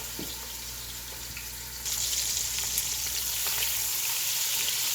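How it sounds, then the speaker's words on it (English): Shrimp hit hot oil and sizzle, the frying growing louder and steadier partway through as they sauté quickly in the pan, with no talk over it. "now that my oil is hot, I'm going to go ahead and add my shrimp in. And we're going to saute these real fast"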